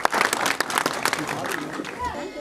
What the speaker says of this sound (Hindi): जोरदार तालियां विशाल के लिए